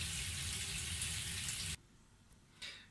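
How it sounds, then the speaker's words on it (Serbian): Water pouring into a pot of chicken and kale soup, a steady close rushing splash that stops abruptly, followed by a brief short pour near the end. "Nalio sam još vode, otprilike do ovde"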